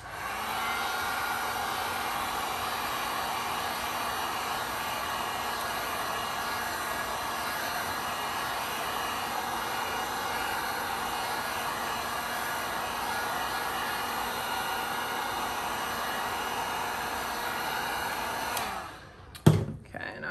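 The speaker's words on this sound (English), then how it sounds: "I'm gonna use a heat gun to thin it out and that'll help it move around." A heat gun blows hot air over a resin dirty pour on a tray, a loud steady whooshing roar that runs unbroken for nearly twenty seconds before cutting off with a few brief knocks.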